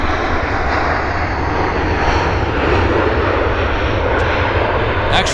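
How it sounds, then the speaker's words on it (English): A WestJet airliner rolls out after landing at Vancouver International Airport, giving a steady, loud roar of engine and rushing air that holds unbroken throughout. "We got a WestJet landing rolling out right now"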